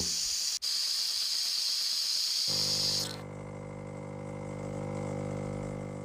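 A Philips HD8847 Saeco Minuto automatic espresso machine brews espresso: a loud close hiss gives way to a steady, humming pump drone that continues to the end, with no talk.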